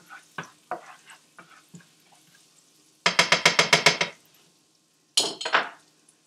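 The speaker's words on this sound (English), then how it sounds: "Now I'm going to take a spatula and just kind of spread it around." A spatula works paprika-seasoned meat around a frying pan for carnitas: scattered scrapes and taps, then a fast burst of about eight sharp metallic knocks, a pause, and one more clattering scrape, close and without talk.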